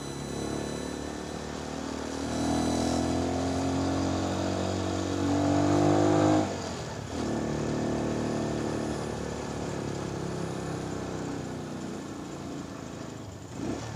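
A motorcycle rides along the Baguio City bypass road toward Kennon Road, its engine humming steadily with a few shifts in pitch as it changes speed, up close with steady road noise and no speech.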